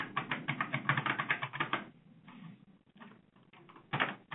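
Fingers type an IP address on a computer keyboard in a server-configuration setting, producing rapid, close plastic key clacks in a dense burst, a brief lull with scattered taps, then another short flurry.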